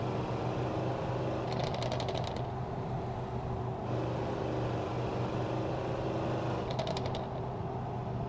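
Mercedes C63 AMG 6.3-litre V8 in a Euro Truck Simulator 2 car mod, a steady loud engine drone with brief crackling pops near the start and again toward the end.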